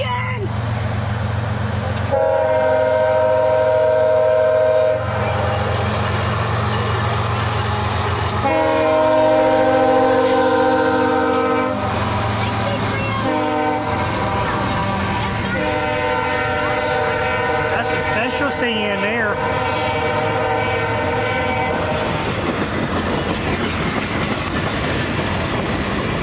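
CN freight train rolling past close by with a loud sustained horn blown in several long blasts over the rumble and clatter of the cars, with people talking excitedly throughout.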